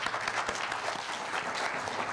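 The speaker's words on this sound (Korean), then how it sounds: "그럼 이충관 교수님 따뜻한 박수로 맞으시죠." Warm, even applause from a seminar audience at a nuclear society lecture, a steady wash of many hands clapping at moderate volume with no voices.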